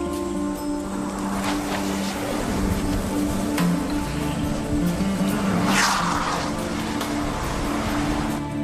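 A car engine idles during a roadside police stop, a steady low rumble with constant hum under a wash of broadband noise, at an even level throughout with no talking.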